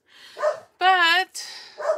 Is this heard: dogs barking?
yes